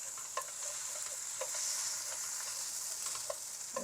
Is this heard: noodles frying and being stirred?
yes